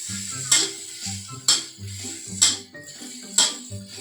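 Chopped onion stir-fried in a hot pan for salted egg shrimp sizzles steadily, with a spatula scraping and tossing in regular strokes roughly once a second.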